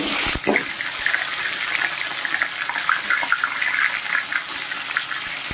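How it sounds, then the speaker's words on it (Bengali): Large fish heads frying in hot oil in a wok for a Bengali muri ghonto, a steady loud sizzle and crackle with a sharp knock near the start and no talk. "তেল গরম করে মাছের মাথাগুলো ভালোভাবে ভেজে নেব।"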